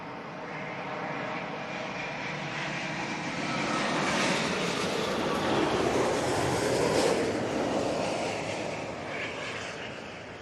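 An airliner from Montreal comes in to land at Heathrow with a broad engine roar that swells to a peak mid-pass and then slowly fades, heard alone with a hint of wind.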